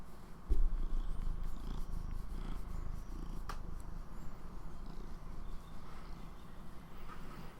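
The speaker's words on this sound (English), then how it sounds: "You might be able to hear him purring." A cat purrs close by in a continuous low, rumbling vibration, with no talking.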